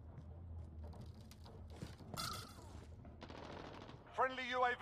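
Gunfire in the Call of Duty Modern Warfare beta, with scattered shots and mechanical clicks under in-game radio voices, building to a louder burst of fire at the end.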